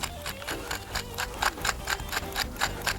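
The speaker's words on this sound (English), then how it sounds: "A little black pepper, a few grinds." A pepper mill grinds black pepper in a kitchen with quick, evenly spaced crunchy clicks, about a dozen rhythmic grinds close by.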